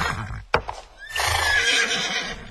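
Horse neighing in a long, loud whinny preceded by a sharp knock and brief hoof sounds, close and prominent in a Bulgarian radio drama scene.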